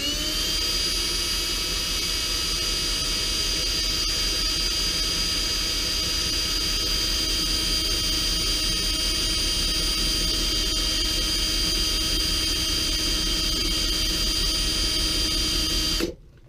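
An axe blade is buffed with polishing compound on a spinning wheel, a steady loud high-pitched whine with a constant grinding hiss, heard close and unbroken until it stops abruptly at the end.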